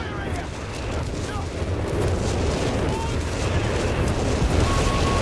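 Artillery barrage in Company of Heroes 3, a dense, continuous rumble of distant shelling and booms holding steady throughout, with commentators talking over it.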